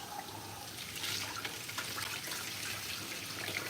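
Water runs steadily from a bathroom sink tap during face washing, a continuous close hiss and splash that stays even throughout, with no voices.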